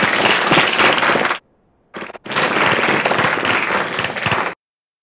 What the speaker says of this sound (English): Let's give a round of applause to everyone there.